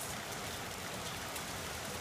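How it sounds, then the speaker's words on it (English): Steady rain pours down in a dense, even hiss, close and fairly loud, with no pauses or voices. "It's totally raining, you guys,"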